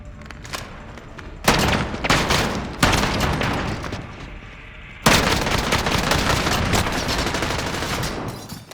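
RAAL light machine gun firing in Call of Duty Modern Warfare, several loud sustained bursts of rapid automatic fire with heavy booming reports, separated by short pauses, close and dominant.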